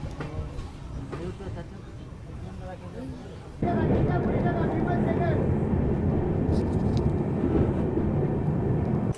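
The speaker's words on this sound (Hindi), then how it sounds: "अपनी ट्रेन 12 मिनट रुकने के बाद डिपार्ट कर रही है हिजली रेलवे स्टेशन से" An LHB express train pulls out of Hijli railway station, a low rolling rumble that swells suddenly partway through and then holds steady and loud, heard from on board with voices in the background.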